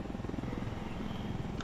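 A helicopter in the video game Ghost Recon Wildlands hovers with a steady, rapid rotor chop and engine drone, fairly close and unbroken for the whole moment.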